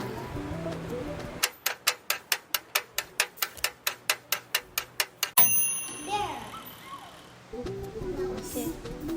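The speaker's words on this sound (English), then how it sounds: "You can only open it when you hear the bell." A toy oven timer on a Cookeez Makery toy ticks steadily in a fast, even rhythm for several seconds, then a bright bell rings once and fades, followed by soft background sounds.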